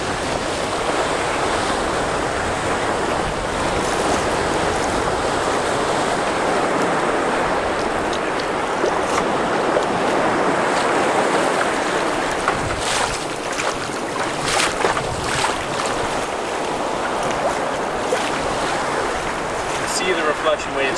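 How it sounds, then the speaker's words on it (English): Waterfall pouring over a single flawless rock slab on a remote wilderness river, a loud, steady, broadband roar throughout with no pause, close and without talk. "It's the best falls of the trip and one of the best falls we've ever seen."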